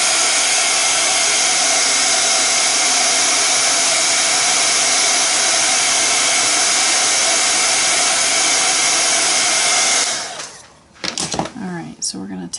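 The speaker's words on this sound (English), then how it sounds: "I'm gonna blow this dry real quick." A hair dryer blows paint dry, a loud, steady, close whooshing roar that runs unbroken for about ten seconds before cutting off, followed by brief handling noises.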